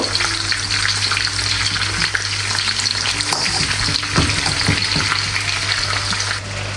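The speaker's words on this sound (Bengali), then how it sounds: "তো গরম তেলে লবস্টারগুলো আস্তে আস্তে দিতে থাকবো। প্রথমে চাচ্ছি লবস্টারটা একটু ফ্রাই করে নেব।" Lobsters, with some prawns, fry in a generous amount of hot oil, giving a loud, dense, unbroken crackling sizzle up close with scattered pops and stirring, and no talk.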